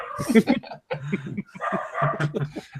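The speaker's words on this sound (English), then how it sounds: "And a dog barking." A dog barking in short yips and bow-wows, fairly close and mixed in under people talking throughout.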